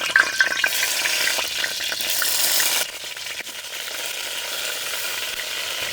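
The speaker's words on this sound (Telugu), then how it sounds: "ఈ వంకాయల్ని ఐదు నిమిషాల పాటు అటు ఇటు తిప్పుకుంటా చక్కగా వేయించుకోవాలి" Masala-stuffed brinjals sizzle in a pot of oil and ghee with a dense, hissing fry. The sound is louder at first, then settles to a steadier, softer crackle, with no voices.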